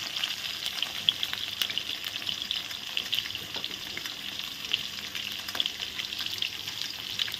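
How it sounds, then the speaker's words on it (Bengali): Potatoes with salt and turmeric fry in a pan with a steady, close sizzle and occasional faint stirring scrapes, continuous throughout with no voices. "দিয়ে আলুগুলো ভালো করে এখন ভেজে নেব।"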